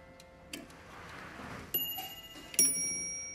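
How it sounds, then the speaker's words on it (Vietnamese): A Franz Hermle German clock with an enamel and brass dial strikes its half-hour chime: a few quiet, clear metallic bell tones, each ringing on and decaying, close by under faint room noise. "Đây là chuông đánh nửa giờ nha bác nhá."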